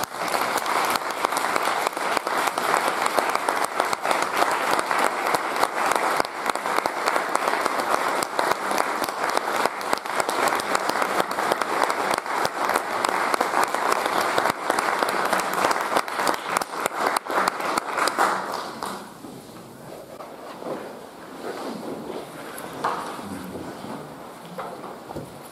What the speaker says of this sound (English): let us join in applause for Mr.